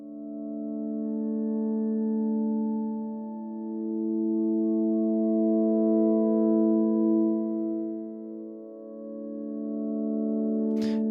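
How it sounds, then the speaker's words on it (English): Ambient synth pad run through a tuned resonant impulse-response reverb, sustaining steady harmonic tones that swell and dip gently over about eleven seconds, alone with no voices, ending in a brief click. "more like a synth that just has maybe had some reverb applied to it"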